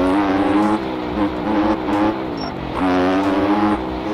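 A Biz motorcycle fitted with a 160 engine in the MX Bikes video game, revving loud and buzzy with rising and falling pitch, briefly dipping between throttle bursts.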